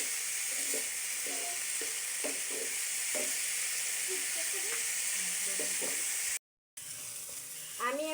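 Vegetables sizzle in a hot frying pan as turmeric is stirred in for vegetable noodles, with a steady frying hiss and repeated scraping strokes of a spoon, then a brief gap before the sizzling resumes.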